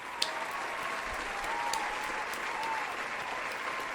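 An audience claps in steady, sustained applause, soft and somewhat distant, with no voices standing out.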